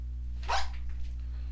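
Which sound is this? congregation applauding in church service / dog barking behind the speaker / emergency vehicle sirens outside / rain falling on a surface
dog barking behind the speaker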